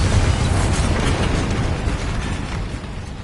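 Bombarda blasting spell detonating in the video game Hogwarts Legacy, a loud, dense rumbling burst that starts strong and slowly tails off over a few seconds, with no voices over it.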